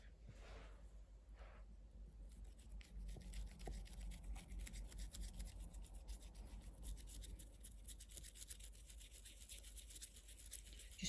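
A doggy toothbrush scrubs a greyhound's teeth in small circles, a close, soft and quick rasping bristle sound that runs on steadily after a couple of faint brushes at the start.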